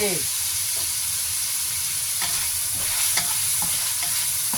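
Peas, wood ear mushrooms and chicken gizzards are stir-fried in a hot pan, with a continuous loud sizzle and repeated scraping strokes of a spatula across the metal.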